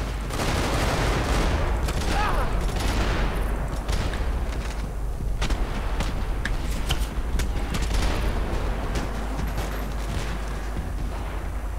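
Dense bursts of rapid gunfire crackle through a Max Payne 3 firefight, overlapping shots and impacts packed into a busy, continuous barrage.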